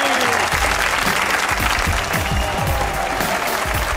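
Loud, dense studio audience applause on a comedy show, sustained and close, with faint cheering mixed into the clapping.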